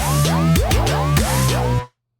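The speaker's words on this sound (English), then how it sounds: "So that is the Scream sound design." Screaming dubstep synth patch made in Reason 12, sweeping upward in repeated bends, about seven rapid whooping swoops over under two seconds, loud and close, then abruptly silent.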